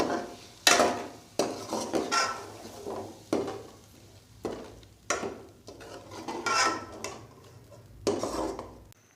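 Tomatoes and spices for chicken karahi frying and being stirred in a pan, with repeated scraping and clattering strokes of a utensil against the pot over a low sizzle, in irregular bursts.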